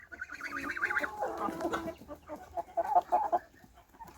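Chickens cluck and squawk nearby in irregular bursts, some calls louder and sharper than others, with no talking over them.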